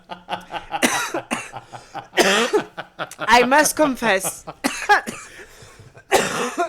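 A man with cancer coughs repeatedly as he reads a love letter aloud, the coughs breaking up his speech in several close, loud bursts.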